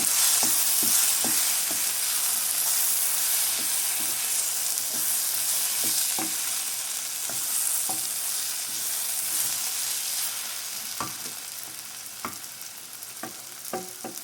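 Drumstick egg curry being stirred in a pan over a bright, constant sizzle, with a spatula knocking and scraping the pan in an irregular rhythm, close and fairly loud, and no voices.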